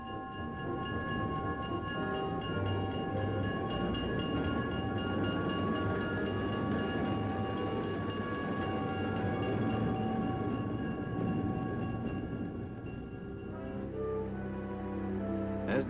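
A train rolls through a small farm town, a steady, sustained rumble with droning tonal hum that holds for a long stretch before easing off near the end.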